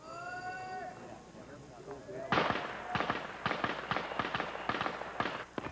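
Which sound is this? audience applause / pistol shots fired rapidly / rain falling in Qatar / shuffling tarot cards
pistol shots fired rapidly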